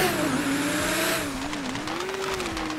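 A 2022 Lamborghini Countach LPI 800-4 in GTA 5, its engine note climbing and dipping as it drives, then turning rougher with tire noise and road roar, loud and close.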